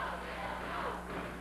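A crowd chants at a professional wrestling match between Bill Dundee and Paul Ellering, a dense, far-off roar of many voices with a steady rhythmic swell.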